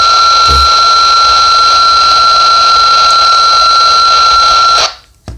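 A Kenwood two-way radio receiver, under test against other brands, gives off a loud, steady electronic tone that holds without a break for nearly five seconds and then cuts off abruptly.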